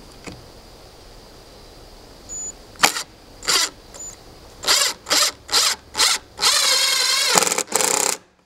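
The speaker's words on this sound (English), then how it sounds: "we did drill pilot holes for each of these" A power drill runs in a series of short whirring bursts, each a second or so, drilling pilot holes, ending with a longer sustained run, close by with no talking.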